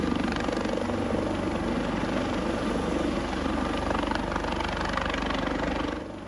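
Continuous rotor and engine drone of a virtual helicopter hovering low over water in a Second Life coast guard rescue demonstration, steady and close throughout with a slight drop at the end.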